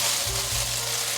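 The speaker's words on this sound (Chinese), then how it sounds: "快速翻炒，把豆干炒成微焦" Dried tofu crackles and hisses while being stir-fried in a wok, a loud, dense sizzle throughout with a brief low rumble of tossing and no voices.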